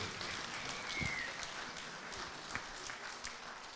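An audience applauds at a jubilee celebration for a television show's 150th episode, a broad even spread of clapping that carries at a fairly constant level with a few sharper individual claps standing out.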